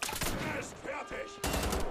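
Rapid gunfire from the shooter game Wolfenstein The Old Blood, dense bursts filling the two seconds with a brief lull before a loud final volley, mixed with game voices.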